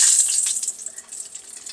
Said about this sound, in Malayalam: സ്റ്റീൽ പാത്രത്തിലോട്ടേ ഒഴിക്കാവൂ കേട്ടോ, കുപ്പി പാത്രത്തിലൊന്നും ഒഴിക്കല്ലേ, പൊട്ടിപ്പോവും